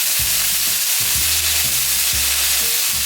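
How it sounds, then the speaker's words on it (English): Beef frying in avocado oil in a pan, with a steady loud sizzle and hiss and low stirring scrapes over it, heard close and alone with no talk. "I'm gonna add a little bit of avocado oil."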